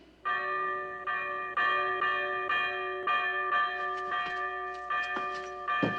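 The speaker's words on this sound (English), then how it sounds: "The bell above the door outside." A clockmaker-balanced bell hung above an outside door rings in steady repeated strikes, each tone ringing on and overlapping the next, clear and fairly loud with no talk.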